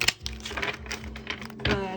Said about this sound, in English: we are going to shuffle the cards